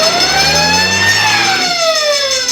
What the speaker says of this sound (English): Then the fire engine starts up. The siren blows.